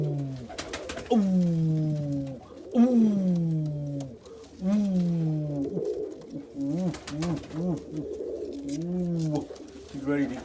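An Indian fantail pigeon hen coos close by in repeated soft descending phrases, a series of throaty rolling calls, with a person speaking over some of them.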